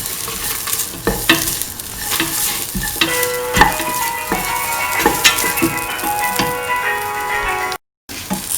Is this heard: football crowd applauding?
no